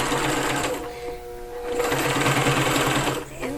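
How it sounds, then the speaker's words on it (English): A sewing machine runs forward in a steady mechanical whir after a brief back stitch, the motor's hum pausing for a moment mid-run and then resuming at full speed, close and alone. "And I'm actually going to back stitch again."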